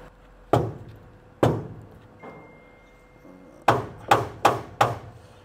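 A hammer strikes a metal bracket on a vehicle outdoors: two separate sharp knocks, a pause, then a fast run of four loud impacts, each ringing briefly before it fades.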